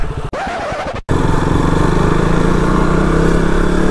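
A motorcycle engine runs near a beach, a loud close droning roar with a rapid steady pulse, briefly cut out near the start and then continuing evenly without pause.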